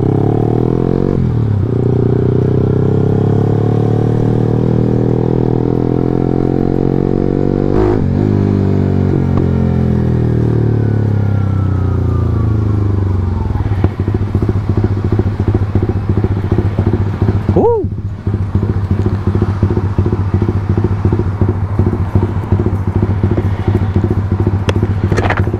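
A Honda RS150R motorcycle engine revs loudly up and down close by, rising and falling in pitch, then shifts into a rapid, pulsing idle-like chatter with a brief sharp squeal near the end.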